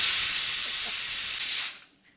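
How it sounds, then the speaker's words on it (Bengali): A kitchen pressure cooker whistle vents steam in a loud, steady high hiss for about a second and a half, then cuts off and fades quickly to silence. "দেখুন আমার প্রেশার কুকারে অলরেডি সিটি পড়ছে"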